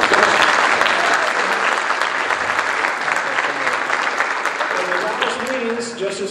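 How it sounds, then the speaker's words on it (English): Audience applause for the head of community relations of the Dallas Wings WNBA team at a lecture, a dense sustained round of clapping that tapers slightly toward the end, with a voice faintly audible beneath it. "Give him a round of applause."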